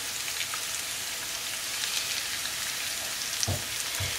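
Four-ounce tuna steaks sear in a hot pot, giving off a loud, steady, dense sizzling hiss that runs unbroken from start to finish.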